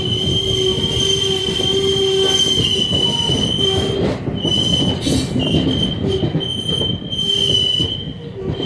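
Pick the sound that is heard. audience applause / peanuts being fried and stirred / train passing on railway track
train passing on railway track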